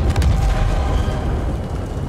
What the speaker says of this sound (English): Explosion that way.